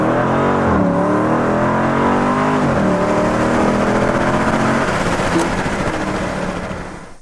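A car launches hard with an eight-speed gearbox, its engine revving up and dropping quickly through short early gear changes, loud and close before fading slightly at the end.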